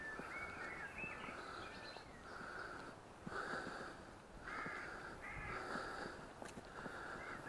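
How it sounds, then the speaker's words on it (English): Crows caw repeatedly in short bursts, some calls overlapping, fairly close against a steady outdoor background hiss. "Some birds are back."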